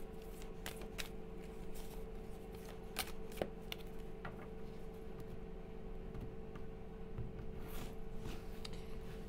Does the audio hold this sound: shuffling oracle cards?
yes